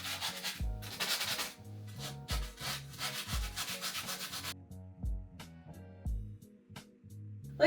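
Hand sanding a patched wall with coarse and fine sandpaper, rasping in steady back-and-forth strokes with a rhythmic beat, loud and close, then easing to softer, quieter rubs near the end; no talking.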